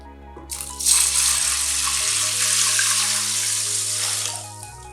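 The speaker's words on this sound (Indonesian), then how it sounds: "rendam kacang hijau dengan 1 liter air bersih atau air layak minum seperti ini" Clean water pours into a container of mung beans to soak them, starting as a rattling splash and settling into a steady, close, full gush that runs for several seconds before stopping.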